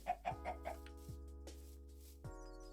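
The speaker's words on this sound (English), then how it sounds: "There's a normal chicken that spawned in our platform." A chicken in the Minecraft modpack FTB Sky Odyssey gives a quick run of four clucks, then a few more spaced-out clucks, over a steady low game hum.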